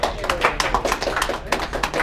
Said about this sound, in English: I'm gonna give you some applause